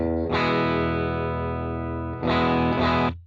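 Electric guitar played straight with no pedals, a clean, unaffected tone: one long sustained strummed chord rings near and loud, then two shorter chords follow before it cuts off, with no voices.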